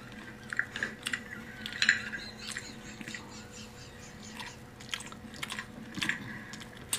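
Someone chews loud and close, with wet, squishy bites and crunches in an irregular rhythm over several seconds and no talking.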